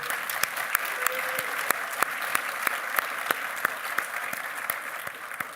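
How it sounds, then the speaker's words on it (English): An audience at a graduate school of nursing pinning ceremony applauds the faculty, a dense, sustained round of clapping from a large crowd that fills the room and fades slightly at the end. "so let's applaud the faculty"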